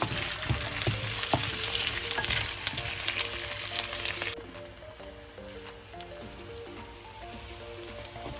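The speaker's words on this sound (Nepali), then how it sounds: "यसलाई मैले एकैछिन यसरी भुटेँ।" Sliced potatoes and onions fry in a pan for a Nepali potato curry, giving a steady sizzle and crackle that drops to a quieter simmer halfway through, with no talking.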